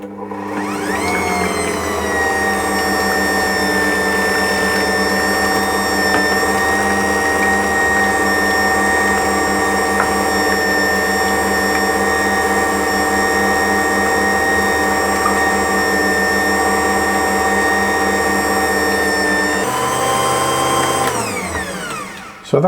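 An Ankarsrum stand mixer kneads English bloomer bread dough, its motor running as a loud, steady drone with a faint rhythmic slap of dough, continuous for about twenty seconds before the whine winds down near the end; no one speaks.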